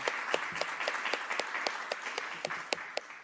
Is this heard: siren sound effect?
no